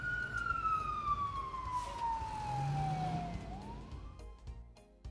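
A cartoon police car siren plays a single long wail that slides steadily downward, then turns back up near the end. It sounds moderately loud and close, over a low background rumble, with no talking.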